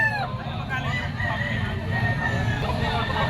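At a crowded chicken market expo, roosters crow in rising calls over a busy background of clucking fowl and crowd babble.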